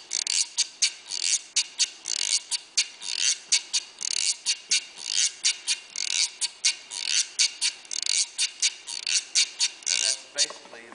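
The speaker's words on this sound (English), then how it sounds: "But this is the traditional guiro made out of wood" A traditional wooden guiro scraped in a quick, steady pattern of downstrokes and upstrokes. The raspy ratcheting strokes are loud and close, and a voice starts just at the end.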